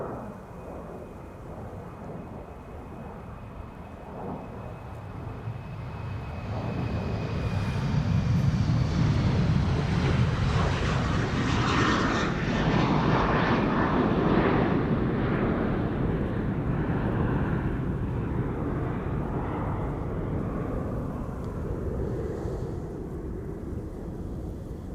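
A retro-liveried Aer Lingus airliner takes off from Amsterdam Schiphol bound for Gdansk, its engine roar swelling from a distance to a loud, broad rumble before slowly fading, with no one talking.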